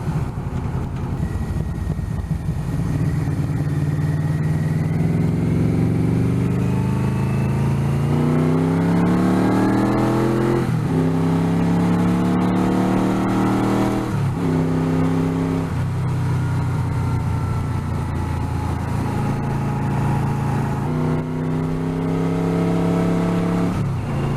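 A motorcycle cruises along an interstate highway, its engine droning steadily and rising and falling in pitch through gear changes. Strong wind noise runs throughout and there is no talking.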